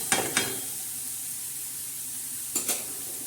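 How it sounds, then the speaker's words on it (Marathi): Green chilli thecha frying with onion in a pan, a steady soft sizzle under two pairs of brief stirring scrapes near the start and end. "हा ठेचा पुन्हा या कांद्यात आता छान असा तळून घेतला आहे"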